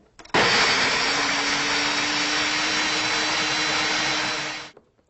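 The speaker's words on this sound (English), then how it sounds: "go back to our blender. Make sure everything comes to the bottom so we can blend this well." Kitchen blender whirring steadily as it purées a garlic-based mixture, a loud continuous motor drone starting abruptly and running for about four seconds before cutting off, with no talking.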